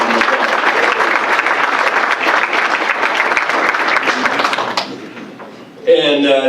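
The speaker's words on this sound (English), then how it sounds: "Let's give Danny and his family a round of applause." Audience applause at a fall athletic signing ceremony, sustained loud clapping that fades out near the end before a brief voice cuts in.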